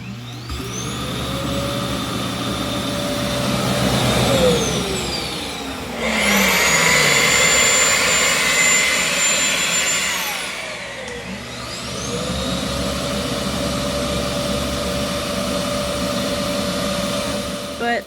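A eufy E20 robot vacuum emptying itself into its dock, a loud, steady whooshing motor roar that rises, drops into a higher suction whine, then settles back, continuous for several seconds.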